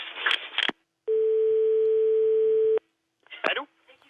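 During a phone call, a steady telephone tone sounds for under two seconds, flat and clear, between short bursts of a voice speaking before and after.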